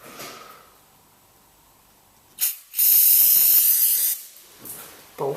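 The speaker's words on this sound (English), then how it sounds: "bolts a bit of a spray so that" Aerosol spray directed onto the bolts of an HVAC unit being decommissioned, heard as a sustained loud hiss lasting over a second, followed by shorter bursts, with quiet handling noise between.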